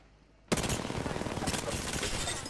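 Video game gunfire bursts in suddenly after a quiet moment, a rapid automatic rattle of shots that stays loud and dense to the end.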